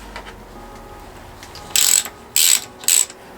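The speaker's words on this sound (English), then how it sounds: "same again for when I'm tightening up these nuts or Allen bolts" A ratchet tightens nuts or Allen bolts on a GIVI luggage rack for a Honda CB650R motorcycle, giving three short, loud clicking bursts close by after a quiet stretch.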